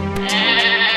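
A goat bleats several times in quick succession, loud and close, with a wavering nasal cry and no talk over it.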